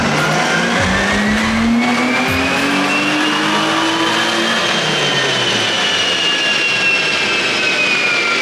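A BMW E46 engine on a dynamometer revs hard in one long continuous pull, its loud, steady roar sweeping upward in pitch over several seconds with no pauses or voices.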